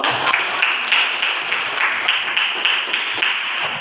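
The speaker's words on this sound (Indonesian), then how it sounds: "berikan aplaus dulu" A classroom group applauds together, a dense, even patter of many hands clapping throughout, fairly loud and close, with no voices over it.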